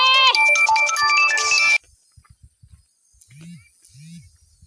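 A loud electronic phone ringtone plays a bright tonal melody for under two seconds, then cuts off, leaving quiet clicks and faint voice-like sounds.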